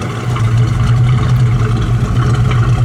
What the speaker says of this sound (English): The exhaust sounds beautiful.